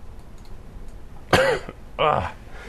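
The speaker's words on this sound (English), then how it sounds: "Sorry about the coughing." Two separate coughs, close to the microphone, with a short pause between them over faint background noise.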